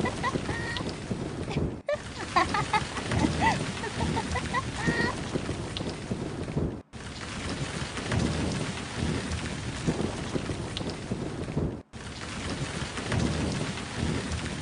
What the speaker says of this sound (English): A little rain won't hurt.